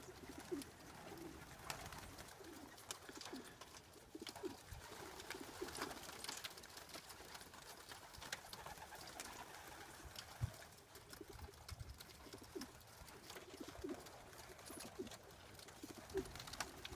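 Pigeons cooing in an aviary, soft repeated low coos spread through a faint, hissy background.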